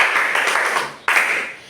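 A class applauds a student in an Epie language lesson, with dense close clapping from many hands in two bursts, the first fading out before a second round starts abruptly and tapers off.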